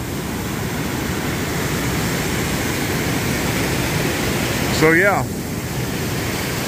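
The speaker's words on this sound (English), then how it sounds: "Watching this river." A river along the Foothills trail makes a steady, even rush of flowing water close by, with someone briefly speaking over it near the end.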